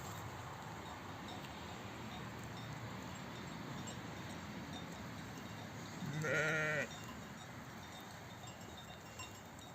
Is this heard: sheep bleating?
yes